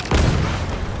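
Grenade explosion in the video game Battlefield 1, a single loud close boom with a deep rumbling low end that quickly decays into a fading tail.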